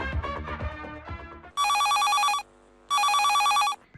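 An incoming call on a radio phone-in program on Akashvani Nanded rings as a loud electronic telephone bell in two long bursts separated by a short pause, following fading music.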